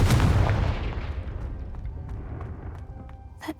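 A Confringo fire-blast spell goes off in Hogwarts Legacy, with a heavy booming explosion at the start that decays into a long, fading rumble, followed by a faint short tap near the end.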